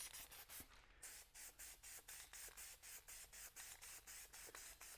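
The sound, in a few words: spray gun applying a light HyperDip tack coat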